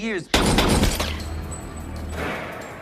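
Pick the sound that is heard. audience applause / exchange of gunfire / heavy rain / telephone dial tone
exchange of gunfire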